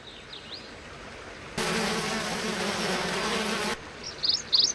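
Bees buzz steadily at a nest in the 1997 Activision game Zork: Grand Inquisitor, a loud dense drone cutting in abruptly and stopping after about two seconds, with faint chirps before and after.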